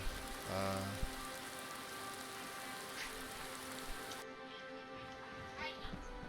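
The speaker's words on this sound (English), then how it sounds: "So I'll put the rain particles back on." Rain particle effect in the game Skyrim, a steady soft hiss of rainfall on surfaces with faint scattered drops, continuous and quiet throughout, with a brief low thump near the start.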